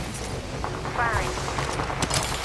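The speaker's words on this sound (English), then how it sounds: "Firing." Gunfire in the battle-royale game Apex Legends, a dense burst of shots with game effects and a character voice line mixed in at close range.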